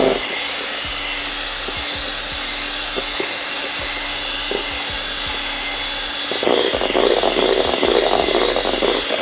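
An electric mixer whirs steadily and loudly as it beats eggs and sugar for brownie batter, with rhythmic knocks of the beaters against the bowl, then the motor grows harsher and louder toward the end.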